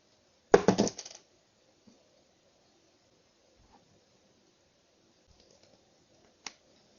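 Work on a metal AR44 clone axle starts with a close burst of sharp metallic rattling and clicks as the screws are loosened and the bearing cap lifted off, then a few faint, isolated ticks and one more sharp click.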